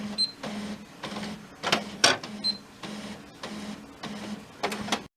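A Canon imageCLASS laser printer runs after a toner cartridge change, cycling through rhythmic mechanical whirs and clicks with a steady motor hum and a few sharper clunks, close and alone.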